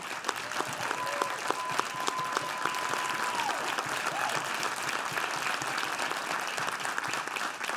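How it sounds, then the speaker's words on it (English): Sustained applause from a large conference audience at a media summit closing plenary, dense and steady for the full stretch, with a faint tonal beep partway through. "Please join me in giving them a very big hand."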